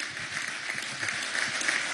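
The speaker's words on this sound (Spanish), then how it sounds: "le damos un aplauso por la claridad de concepto" Applause from a crowd at a Venezuelan government event with popular defense units, a steady wash of clapping heard at a moderate distance for the full two seconds.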